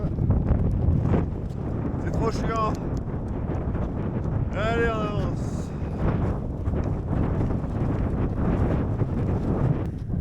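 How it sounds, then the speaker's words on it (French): Heavy wind buffets the microphone in a constant roar on a snowy Norwegian plateau during a ski crossing, while a person speaks briefly and a few faint squeaky tones cut through. "Il y a un vent de dingue."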